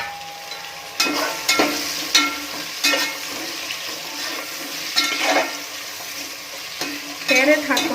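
Carrots fry in a pan with tomato and onion, a continuous sizzle broken by repeated scraping stirs of a utensil in an irregular rhythm, close and fairly loud.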